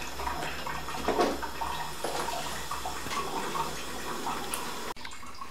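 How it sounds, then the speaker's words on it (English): Tap water runs steadily into a pot being filled for boiling sugar in a home brewery, a continuous close hiss that cuts off abruptly near the end. "I'm just filling the water pot up."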